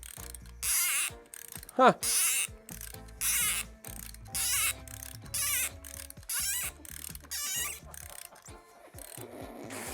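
A hand ratchet works a long bolt free on a Harley-Davidson Sportster front end. The clicking comes in repeated short bursts with brief pauses between them, close by, and a man makes a short remark once.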